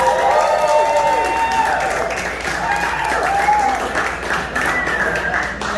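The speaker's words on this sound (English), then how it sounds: "give a round of applause to that man" Crowd applause and cheering at a political rally in Minneapolis for a mayoral candidate, a sustained, loud burst of clapping with shouting voices woven through it.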